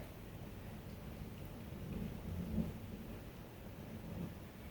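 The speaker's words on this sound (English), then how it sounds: "If you hear thunder, it's thunderstorming outside right now." Thunder from a storm outside murmurs as a faint, low, drawn-out rumble, rising slightly midway and fading, heard from indoors with light rain-like hiss.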